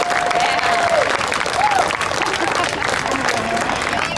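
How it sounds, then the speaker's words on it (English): A crowd applauding an honoree at a Blue Ribbon City ceremony in Moose Lake, steady clapping throughout with whoops and cheering voices rising over it, fairly loud and close. "Give her a big round of applause."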